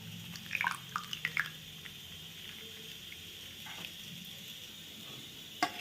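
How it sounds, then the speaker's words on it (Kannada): Curd is added to a pot that already holds cucumber and salt for raita. Soft, wet plops and drips cluster near the start and then fall away to quiet, fairly faint, with no talking. "ಈಗ ಮೊಸರು ಹಾಕ್ಕೊತಾ ಇದ್ದೀನಿ."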